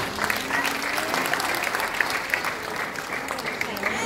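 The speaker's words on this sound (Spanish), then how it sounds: "Un aplauso para él." Applause at a Christmas food-basket handout in Tierra Blanca, a crowd clapping steadily and fairly loud for the full stretch without a break, dense and even with no pause.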